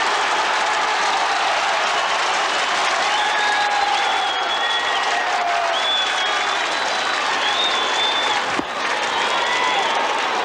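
Dense, steady crowd roar with cheering and applause from a 1990 Ulster Senior Football Championship Gaelic football match, Down against Monaghan, greeting a goal; the noise stays loud and continuous throughout, with a few whistles and shouts rising above it.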